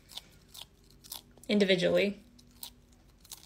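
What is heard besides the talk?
chameleon crunching on a fed bug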